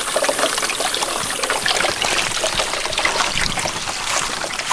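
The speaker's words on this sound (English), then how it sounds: "I'm filling up the water tank" Steady splashing trickle of water pouring into a water tank, continuous and fairly loud with no talking.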